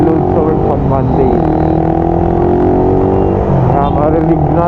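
Motorcycle engine picked up by a helmet-mounted GoPro on a ride to work, a loud, close, continuous rumble with shifting revs and wind throughout, no talking.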